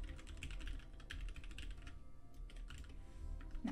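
Rapid keystrokes on a computer keyboard clatter steadily and fairly close throughout, with a brief lull midway, while someone plays The Sims on a livestream.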